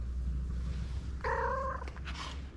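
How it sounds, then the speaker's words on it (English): A sleeping cat purrs in a warm spot, a soft, low, steady rumble close by, interrupted briefly by a short higher-pitched vocal sound from the cat partway through. "Purr, purr, purr."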